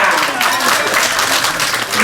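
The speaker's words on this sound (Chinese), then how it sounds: "掌声给他鼓励一下" A crowd at a 90th birthday banquet claps in sustained, dense applause, moderately loud and steady throughout the short stretch.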